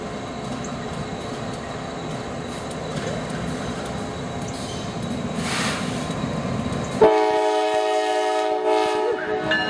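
A northbound Norfolk Southern coal train led by GE locomotives NS 9565 and GMTX 9075 rumbles loudly past at close range, then a sustained, strongly pitched horn blast cuts in near the end over the continuing roar of the cars.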